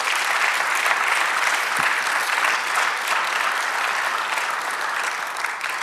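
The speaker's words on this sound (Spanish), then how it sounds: "Dale aplauso al Señor." Sustained applause from a church congregation honoring the Lord during a Spanish-language sermon, dense and continuous across the whole stretch with no voice on top.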